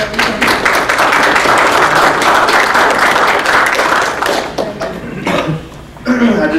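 Applause in a county council general session fills most of the clip: loud, dense clapping from a room of people that thins and fades toward the end, with a few stray claps and small noises as it dies down.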